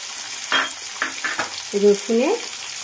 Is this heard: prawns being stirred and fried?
yes